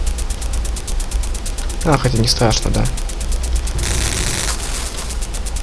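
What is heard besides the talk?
gunfire in Jungle Strike video game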